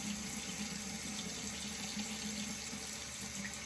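Tap water runs steadily into a sink while a razor is rinsed during a shave, a constant close splashing stream without speech.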